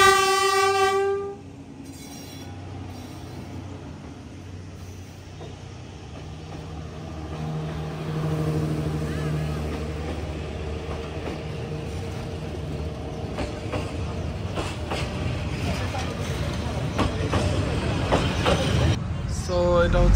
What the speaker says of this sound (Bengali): ওই যে মাত্র চলে আসলো হ্যানয়ের বিখ্যাত স্ট্রিট ট্রেন